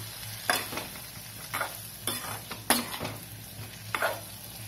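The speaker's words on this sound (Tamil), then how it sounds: "இப்போ அப்படியே நல்லா வதக்குங்க." Brinjal sautéing in oil with chili powder for Chettinad ennai kathirikai thokku, with a soft, quiet sizzle under about six distinct spoon-and-pan stirring strokes at an uneven rhythm.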